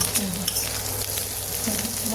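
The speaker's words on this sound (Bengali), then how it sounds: "ভাজাও প্রায় হয়ে গেছে, কিন্তু তবু আরেকটু ভেজে নেব" Cauliflower and potatoes sizzle and crackle steadily in a hot pan, a continuous close frying hiss with faint voices murmuring underneath.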